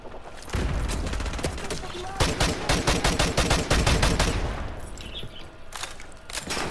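Rapid gunfire from Call of Duty Modern Warfare Remastered on the Veteran campaign mission Takedown, dense bursts of shots and booms crackling almost continuously throughout, loud and close, with a voice talking over the shooting.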